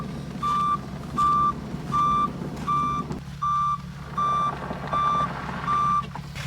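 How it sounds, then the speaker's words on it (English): A tow truck's reversing alarm sounds eight evenly spaced beeps over a low idling engine rumble, loud and fairly close, with no speech. "the tow truck should be here any minute"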